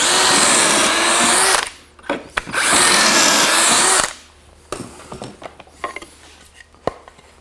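A power drill bores pocket holes into wood with a Kreg jig, two loud, steady high-pitched runs of about a second and a half each, separated and followed by clattering handling noises.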